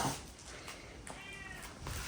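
A cat sitting outdoors on a stand gives a short, faint meow, heard alone against quiet outdoor background.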